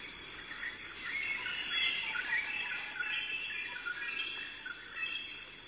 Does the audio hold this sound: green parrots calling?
yes